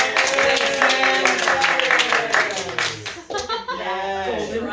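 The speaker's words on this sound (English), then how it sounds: "People cheering for Pythagoras in our living room." An audience claps and cheers in a living room during a music lecture, a dense burst of hands and voices that thins out toward the end, with talk overlapping.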